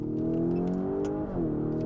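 A Lamborghini Urus S engine pulls hard up through its ZF automatic gearbox, a loud, close, rising engine note with a brief dip and resettle at the shift around the middle, with no talking.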